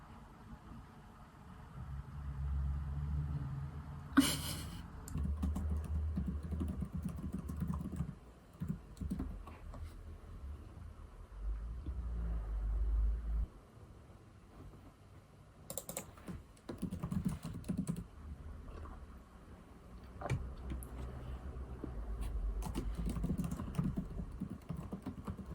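Someone types on a computer keyboard while writing a novel, and the clicks come in bursts of rapid keystrokes with short pauses. The typing is fairly quiet and close, and a low hum sits underneath it.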